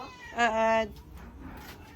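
A cat gives a single clear, drawn-out meow, close and fairly loud, over faint background noise and murmuring.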